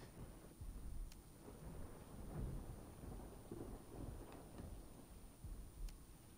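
Thunderstorm with steady rain in the video game Resident Evil 3 Remake, a soft continuous hiss of rainfall with low rolling rumbles of distant thunder throughout, fairly faint and with no voices.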